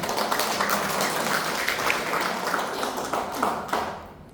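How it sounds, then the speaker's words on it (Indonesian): A church congregation at a Sunday service claps hands in praise, a steady crowd of overlapping claps that continues loudly before thinning out at the end. "Coba tepuk tangan bagi Tuhan Allah"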